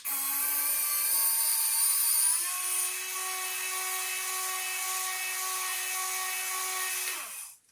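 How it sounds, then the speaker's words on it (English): A small electric winch motor on a 1:10 RC military jeep whines steadily as the cable pays out, its pitch dropping slightly partway through before spinning down to a stop. "I'm gonna pull the winch out."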